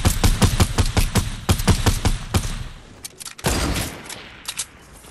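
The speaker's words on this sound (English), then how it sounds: "I just sniped a dude" Gunfire in a Fortnite duo squad match, with a fast volley of loud, close shots followed by a few scattered bangs and a rushing burst of noise.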